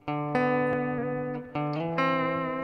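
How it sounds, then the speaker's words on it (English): An electric guitar plays broken chords, single notes ringing one after another and sustaining into each other at a moderate pace. "they use some things called chords, broken chords."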